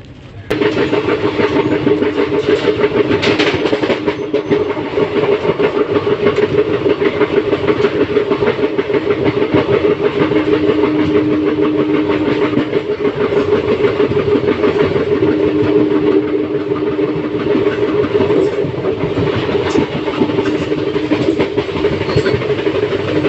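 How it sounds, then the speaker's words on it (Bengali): The Silchar Express passenger train rumbles steadily along the tracks after leaving Vijayawada Junction, a loud continuous roar with a faint rhythmic clatter of wheels, heard from on board. "আমাদের ট্রেন ছেড়ে দিয়েছে বিজয়ওয়াড়া জাংশন থেকে।"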